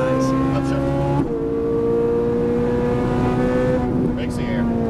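Ferrari 458 Italia on a race track, its engine a loud, steady harmonic whine from inside the car that climbs in pitch, drops sharply at a gear change, then pulls upward again. A voice talks over it.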